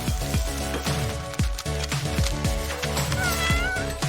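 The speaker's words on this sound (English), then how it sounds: "No matter how you watch, you just can't beat cat videos." Repeated cat meows with sliding, wailing tones from a cat video, several calls in a row over a busy, continuous background, loud and close.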